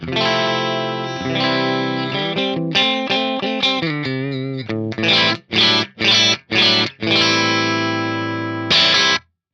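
Clean, unprocessed electric guitar using a Bassman amp model, playing chords and single notes, ending in a few sharp, evenly spaced strummed stabs and a ringing final chord.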